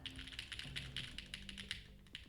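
Close, steady typing on a mechanical Protagonist keyboard with a carbon fibre plate, a quick run of crisp, soft keystrokes with a low hum underneath.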